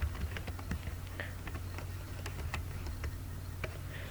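Typing on a computer keyboard while coding HTML: close, crisp irregular key clicks in quick bursts over a low steady hum, with no talking.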